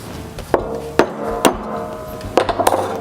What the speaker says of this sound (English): So I'm going to punch a little hole there.